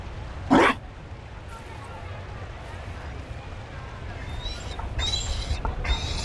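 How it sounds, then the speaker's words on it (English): A Mabari war dog in the video game Dragon Age: Inquisition gives one loud, sharp bark near the start, followed by quieter game ambience with faint high tones. "You found a dog? They don't breed Mabari in Olay."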